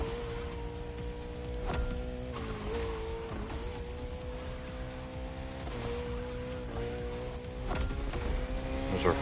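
Koenigsegg Jesko hypercar racing in the video game The Crew Motorfest: a steady, high-pitched engine drone with shifts in pitch as it changes gear, with brief sharper bursts, heard alone at a fairly even level.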